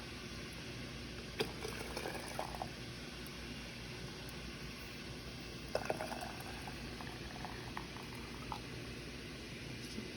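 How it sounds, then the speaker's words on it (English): Boiling water poured into a canning jar filled with dry beans and salt makes a low continuous gurgling trickle, with a couple of faint clinks and bubbling accents, close and quiet with no talking. "now I'm going to add the boiling water"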